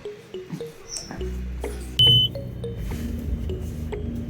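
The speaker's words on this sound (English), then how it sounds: "Are you gonna miss that beep?" A short electronic warning beep from a Ford Mustang Mach-E sounds once, sharp and close, amid scattered clicks and a low engine hum.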